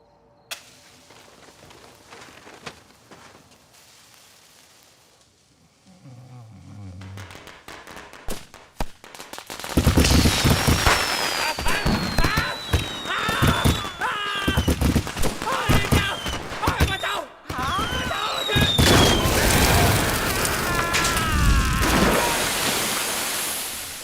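A string of firecrackers goes off in rapid, loud cracks and pops, following a quiet stretch with faint voices and a brief low rumble. The bursts come in dense clusters and continue to the end.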